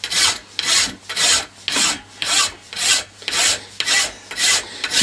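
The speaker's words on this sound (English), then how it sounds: "And we're just tidying up the casting at the moment. Filing all the... get it to back to the original." A file works a metal flint cock casting in about ten even, rhythmic rasping strokes, loud and close with short pauses between each pass.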